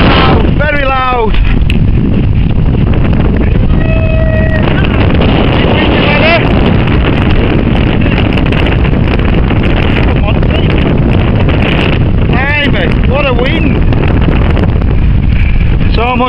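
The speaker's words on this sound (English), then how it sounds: "it's a warm wind if it's any consolation" Strong, warm wind roars across a Lake District fell summit near Red Pike, buffeting the microphone in a loud, constant rumble, with voices partly audible beneath the gusts.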